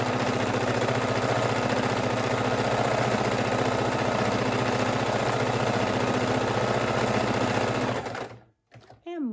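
Sewing machine running steadily while stitching repeatedly over fabric pieces of a fidget quilt, a loud continuous mechanical whir that stops abruptly near the end, followed by brief silence and a faint voice.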